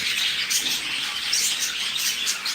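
Birds chirp steadily in a breeding colony where more females are being released, a dense layer of high, bright calls overlapping without pause at moderate level.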